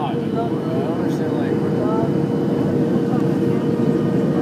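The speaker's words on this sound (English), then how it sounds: "Like now he's dropping the flaps again." Airliner cabin on landing approach from Seattle to Oakland near San Francisco, a steady loud roar with a rising mechanical whine as the flaps extend, continuous throughout.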